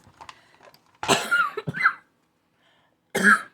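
A few harsh coughs close up: a soft start, then a burst of two or three coughs, a pause, and one final cough.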